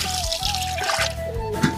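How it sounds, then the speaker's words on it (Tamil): Water coming to a boil in a pot of rice water for a home-made seeraga samba chicken biryani, a steady bubbling and dripping texture with a faint low hum running through it, close and moderately loud. "மக்களே தண்ணி கொதிச்சிச்சுன்னு நினைக்கிறேன்."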